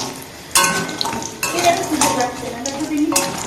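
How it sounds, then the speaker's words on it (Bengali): Close-up clatter of a utensil scraping and stirring lentil dumplings frying in oil in a pan, with faint sizzling underneath, in irregular bursts. "কটা বড়ি ভাজছি"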